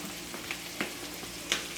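Steak and peppers are mixed together in a pan over a continuous frying sizzle, with a few soft stirring knocks spaced through the brief stretch, close and without speech.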